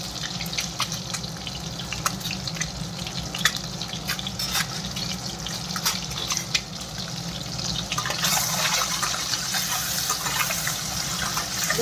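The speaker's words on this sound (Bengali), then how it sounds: "অল্প ভালো দিয়ে ডিমগুলো আমি এখন ভেজে নিচ্ছি" Eggs seasoned with salt and turmeric fry in oil in a pan, giving a steady, close sizzling hiss with fine crackles that grows denser and louder toward the end, with no talking.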